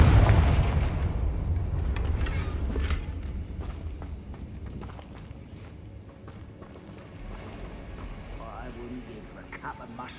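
A Confringo fire spell erupts in Hogwarts Legacy with a loud, deep booming blast that fades into a long rumbling tail, followed by quieter game ambience.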